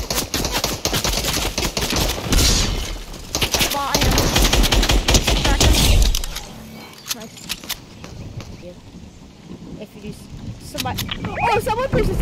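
Rapid automatic gunfire in Fortnite rattles loud and continuous for several seconds, then breaks into scattered shots under excited player chatter.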